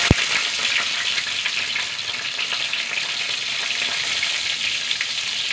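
Mustard seeds and two dried red chillies fry in hot coconut oil in a pan, giving a steady, close hiss with fine crackling pops that runs the whole time, with one sharp tap near the start.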